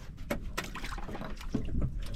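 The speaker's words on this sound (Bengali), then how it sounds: "পাশের একটা নৌকা আসছে, ওনারাও মাছ ধরতে আসছে।" A neighbouring fishing boat comes near on open water, heard as close knocks and wooden thumps with sloshing water between them, fairly loud and irregular, with no talk.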